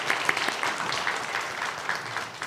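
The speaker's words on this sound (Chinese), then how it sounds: "我们把掌声献给耶稣" A church congregation at a Mandarin Sunday worship service claps together, a dense, steady round of applause filling the room at moderate loudness, with no voices over it.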